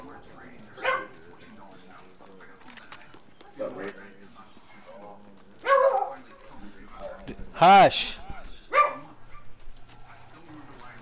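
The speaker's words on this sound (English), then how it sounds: "No more barking." A dog barks in a few short bursts indoors while a gamer plays Apex ranked, the barks rising above steady talk and game sounds, with someone shouting at it.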